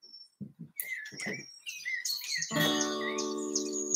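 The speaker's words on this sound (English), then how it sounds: "Bye, birdies!" Several birds give sharp, close chirps and tweets in quick bursts, ending with a sustained bright trill.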